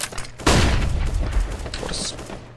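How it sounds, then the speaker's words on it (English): A flashbang grenade in Counter-Strike: Global Offensive, with a sharp loud burst early on followed by a ringing, clattering tail, close and under busy game noise. "Grenade out. Throwing flashbang."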